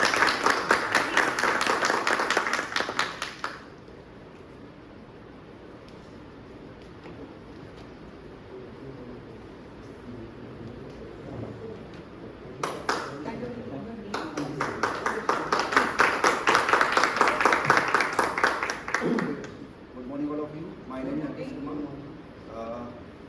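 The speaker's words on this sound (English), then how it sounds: "Give a big round of applause to him." Audience applause for a guest at a Toastmasters meeting: a room of hands clapping steadily for a few seconds, fading into murmuring, then a second, louder burst of clapping before voices return.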